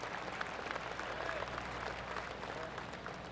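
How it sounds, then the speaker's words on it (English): Soft golf clap from a gallery crowd in PGA Tour 2K25 at TPC Summerlin, a quiet, steady patter of distant applause under a commentator's voice. "Oh, golf clap."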